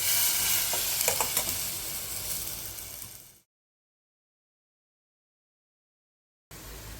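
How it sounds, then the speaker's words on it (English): Chopped tomatoes and onions sautéing in a pan for masoor dal tadka, a close, steady sizzle with a few sharper crackles and stirring scrapes, cutting off to silence midway and returning at the end. "You add the chopped tomatoes and saute"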